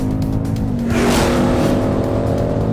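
A Ford Mustang V8 pulls back onto a track straight, its engine droning loud and close with a steady harmonic tone that rises as it accelerates, with tyre noise underneath.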